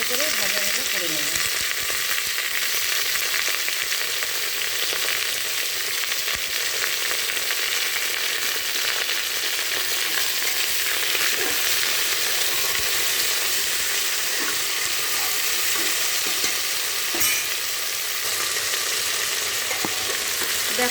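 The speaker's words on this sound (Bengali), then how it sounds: "এই সবজিটাকে আমি এর ভিতরে ভাজা ভাজা করে নেব।" Pointed gourd, radish, yardlong beans, eggplant, potato and green chili frying together in oil, a dense, constant sizzle heard up close with faint stirring scrapes and no talk.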